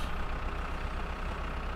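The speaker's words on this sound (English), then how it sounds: "Watch out for the bus." A bus drives past on a road in the My Summer Car video game. Its engine gives a low, steady rumble at moderate level throughout, with no one talking.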